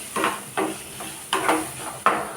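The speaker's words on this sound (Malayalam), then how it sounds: "ഇതെല്ലാം കൂടി ഒന്ന് വഴറ്റിയെടുക്കാം" Onion, shallots, ginger and green chili sauté in a hot pan, with a steady sizzle broken by five or six distinct scraping stir strokes, close and fairly loud, no voices.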